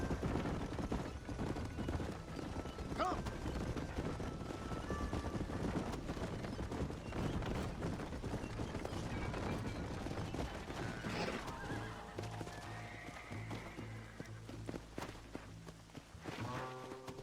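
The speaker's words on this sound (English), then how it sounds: "Agora é corrida de cavalo." Horses neigh and whinny at the start of a horse race in Red Dead Redemption, with hooves clip-clopping and scuffling underneath, followed by lower tonal game sounds near the end.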